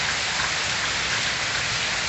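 Heavy rain pours down in the Pernambuco backlands, a dense, even hiss of drops striking surfaces that stays close and constant, with no thunder or voices.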